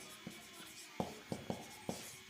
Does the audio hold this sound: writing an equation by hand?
yes